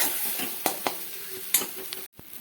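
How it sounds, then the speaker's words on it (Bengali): Spice paste slowly stir-fried over a low flame in a wok: a gentle sizzle under several crisp scraping strokes of the spatula, close up, briefly cut off near the end, no voices. "এবারে মশলাটা আমি একদম লো ফ্লেমে ধীরে ধীরে কষিয়ে নিচ্ছি"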